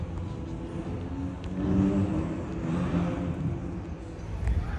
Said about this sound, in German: der 488 ist ja brutal laut.